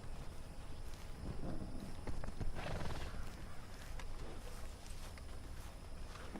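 Horse hooves clip-clopping at a walking pace as a rider approaches on horseback in Red Dead Redemption 2, steady and fairly close, with an occasional whinny over a low outdoor ambience.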